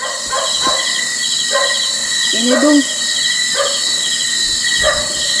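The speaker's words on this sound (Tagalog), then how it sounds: "Kaninong aso yung umakahol, madam?" A few short yapping barks from a dog, spaced irregularly, with people talking over and between them against a steady background hum.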